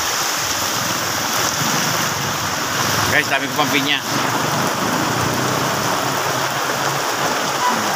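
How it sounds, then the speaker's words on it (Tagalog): Heavy rain pours steadily in a dense, continuous hiss, with a person speaking briefly partway through. "Grabe, lakas ng ulan guys, lakas ng ulan."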